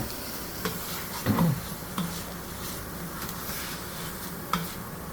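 Sausage sizzles as it cooks down in a pot of white bean chili with fresh herbs, a steady soft crackle with a few brief scrapes and clicks from stirring, heard close with no talking.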